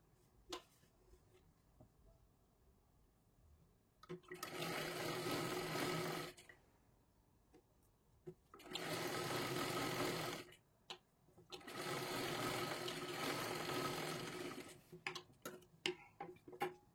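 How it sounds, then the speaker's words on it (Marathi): A sewing machine stitches a blouse in three separate bursts of rapid whirring, with quiet pauses and small clicks and handling noises between runs. "आता हे आपल्याला पूर्ण शिलाई करून घ्यायचं आहे"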